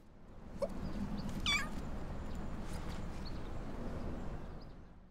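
A kitten meows a few times, small and high-pitched, over a steady low background hum.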